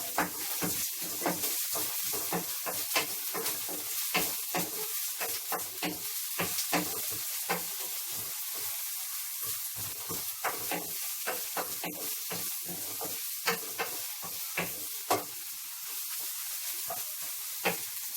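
Garlic and onion sauté in a pan for bottle gourd with sardines, a constant close sizzle broken by frequent sharp spatters and crackles, with no voices.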